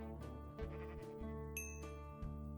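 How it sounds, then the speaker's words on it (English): Sheep in the Minecraft video game bleat several times in quick succession, clear and close, over steady background music with no talk. "Okay, we got enough sheep bred up here."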